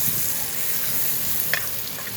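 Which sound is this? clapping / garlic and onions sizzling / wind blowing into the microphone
garlic and onions sizzling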